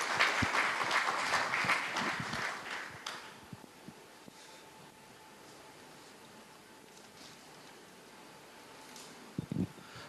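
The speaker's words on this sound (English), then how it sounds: "Warm applause." An audience at a blockchain talk gives a short burst of applause that dies away after about three seconds, followed by a quiet room with faint rustles and a couple of small knocks.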